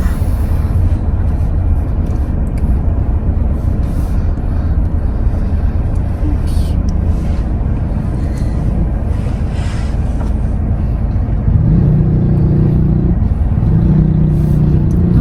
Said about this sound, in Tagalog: Maraming sasakyan ay salubungan.